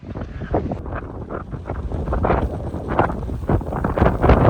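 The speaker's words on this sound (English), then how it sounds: "Windy. Floating around by the wind." Strong gusts of wind buffet the microphone in continuous roaring bursts, rising and falling with no talking.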